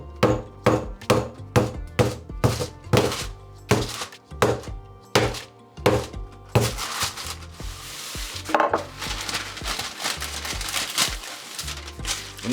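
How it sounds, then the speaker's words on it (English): A rolling pin thumps and knocks as butter and pastry are worked out on a counter, first a regular series of heavy, evenly spaced blows, then denser, rumbling rolling strokes. "One rolling pin."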